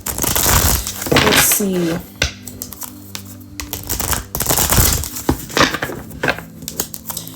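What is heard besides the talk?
shuffling tarot cards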